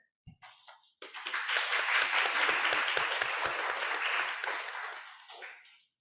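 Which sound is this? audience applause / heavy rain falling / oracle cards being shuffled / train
audience applause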